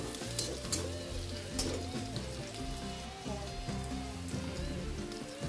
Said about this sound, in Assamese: পিঁয়াজখিনি অকণমান ৰঙচুৱা হোৱালৈকে ভাজি লৈছে।